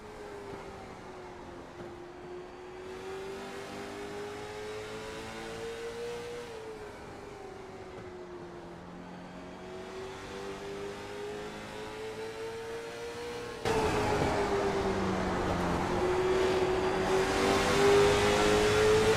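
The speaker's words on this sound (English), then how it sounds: "I'm going to lay out and let you just listen to his throttle input here." Race car engine at a race, heard from on board as a sustained droning whine that rises and falls steadily with throttle input, louder and harsher toward the end, with no talking.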